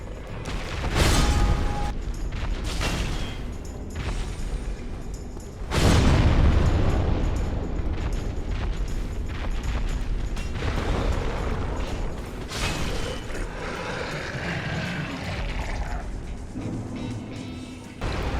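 Heavy booming explosions burst out repeatedly over a continuous rumbling roar, with crashing impacts and loud surges between quieter stretches, during a Dark Souls boss fight.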